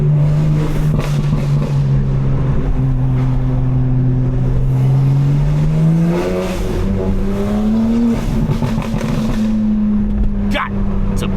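A 750 hp BMW M4 engine roars steadily on a night drive through the city. The loud, close exhaust note rises and falls as it accelerates, with someone speaking briefly over it.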